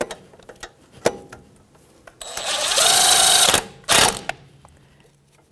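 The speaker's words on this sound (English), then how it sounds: "13mm socket. with that mounting bolt." Socket tool driving a mounting bolt on the front brake hose bracket of a 2007-2017 Jeep Patriot, heard as a few sharp ticks and then a loud burst of rapid mechanical whirring with a brief second burst, close and without talk.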